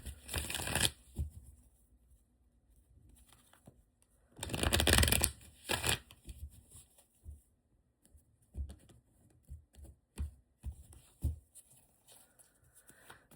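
A deck of oracle cards being shuffled and handled: scattered papery rustles and taps with a couple of longer, fuller shuffling bursts, close by and quiet, with no speech.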